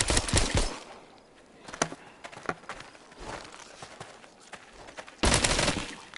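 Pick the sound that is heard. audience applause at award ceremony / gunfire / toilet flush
gunfire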